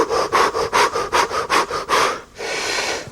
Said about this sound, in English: It's a big inhalation in with a bunch of inhalation exhalations like you're panting